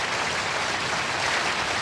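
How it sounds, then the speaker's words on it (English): Studio audience applause on a comedy radio program, a dense, loud, even roar of clapping filling the whole short stretch with no voices over it. "Now you can applaud."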